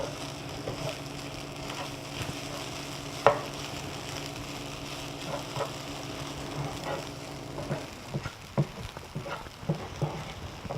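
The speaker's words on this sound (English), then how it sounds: "the quinoa is steady staying flaky while we stir it around" Quinoa and vegetables stir-fry in a pan, a steady sizzle running throughout while a utensil scrapes and stirs at irregular intervals, with a sharp knock near the start and clustered clatters toward the end; no talking.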